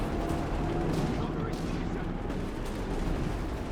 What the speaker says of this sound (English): Racing forward, so we get hit by several anti-tank rifle hits here.